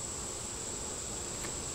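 Honey bees swarm around an open beehive during hot-weather hive inspection and condensing, making a steady, dense buzzing hum that fills the whole stretch with no voices.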